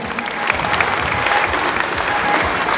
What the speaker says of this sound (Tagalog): Palakpakan po natin yung DGMI.